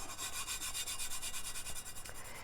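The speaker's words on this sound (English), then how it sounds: "all you're doing is rubbing the glitter flat into the cup and into that Tack It" Holographic glitter is rubbed into a tumbler coated with Tack It adhesive, making a close, continuous rhythmic rubbing hiss with quick back-and-forth strokes. Nobody speaks.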